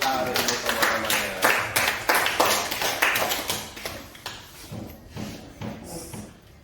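A class of students claps hands together at the end of an Indonesian coding and artificial intelligence lesson, a run of loud, uneven claps over several seconds with voices mixed in, thinning out toward the end.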